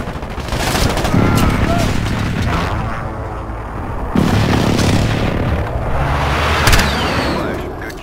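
A called-in artillery strike in Modern Warfare lands as a loud, continuous barrage of booms and explosions. Dense rumbling impacts and crackling gunfire swell in two big waves and fill the whole stretch.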